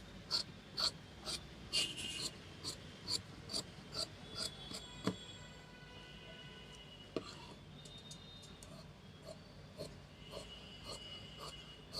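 Scissors cutting through stretchy pant fabric during tailoring for a size 38 trouser, a quiet series of regular crisp snips and rasps close by with no speech.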